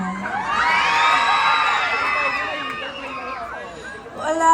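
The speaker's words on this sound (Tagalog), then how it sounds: "Wala rin po bang hiyawan dyan?" A pageant audience cheers and shouts in Caloocan, a dense, loud crowd roar with whoops and high-pitched screams sustained throughout, swelling briefly again at the end.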